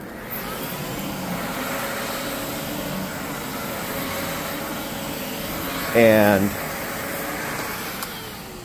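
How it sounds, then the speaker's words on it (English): A vacuum cleaner runs steadily over carpet, a continuous motor drone with a brief louder surge partway through, while a person speaks over it. "Often people when they vacuum, they just do it like this."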